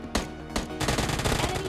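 Two separate gunshots are followed by a rapid burst of automatic gunfire, loud and dense, with a game-like synthetic character, from PUBG Lite gameplay.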